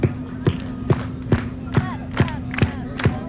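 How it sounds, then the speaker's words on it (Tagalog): A crowd on the Santa Monica pier claps in unison, eight sharp group claps at a steady, even rhythm, with a sustained hum running underneath. "Crowd, last thing we need y'all here to do is clap like this."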